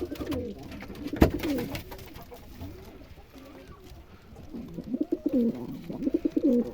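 Domestic pigeons coo in low, rolling phrases, several birds close by including males and a female, with a sharp knock partway through and a louder burst of cooing near the end.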